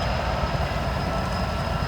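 A heavy Union Pacific rock train rolls through a siding at Kingfisher, a continuous loud rumble of railcars with rhythmic wheel clatter and a faint high metallic squeal over it.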